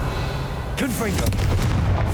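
The Confringo fire spell in Hogwarts Legacy goes off as a booming blast under a steady rumbling game background, with a brief voice partway through.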